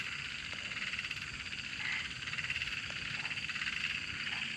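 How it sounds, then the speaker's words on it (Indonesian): Frogs croak steadily at night in a thick, continuous chorus that swells slightly toward the end, near and fairly loud with no talking. "Kok makin kenceng suara kodoknya ya?"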